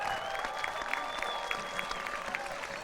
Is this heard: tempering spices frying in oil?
no